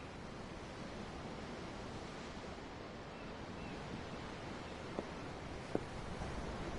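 Steady, even ocean surf washes without a break in the Tales of Arise game world, heard as a dense, uninterrupted rush with two brief faint clicks near the end.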